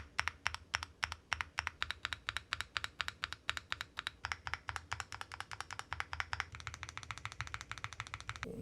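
Keys clack on a wired SPM AL66B full-aluminium DIY mechanical keyboard as its stabilised keys are tested, crisp close taps in a quick uneven rhythm that turns denser and lighter toward the end.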